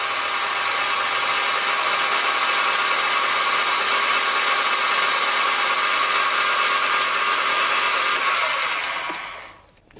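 A mini metal lathe runs under carriage feed, giving a steady loud whirring hum close by that holds evenly, then winds down and stops at the end.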